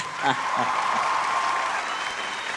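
An audience at the SIIMA 2014 awards claps and cheers, a dense wash of applause at steady loudness filling the hall, a little distant, with a faint tone running through it.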